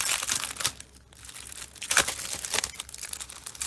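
Plastic packs of water nail decals are handled and crinkled, producing irregular bursts of close crackling and rustling that come and go throughout, with no talking.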